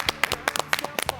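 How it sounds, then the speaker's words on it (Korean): Studio clapping on a Korean TV radio talk show, a handful of people giving loud, close, irregular claps for just over a second. "박수 한번 칠까요?"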